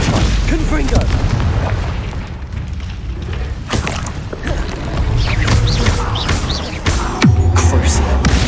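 Confringo blasting spell explosions in the Hogwarts Legacy video game, several deep booms and thuds spread through a busy mix of combat noise, with voices speaking throughout.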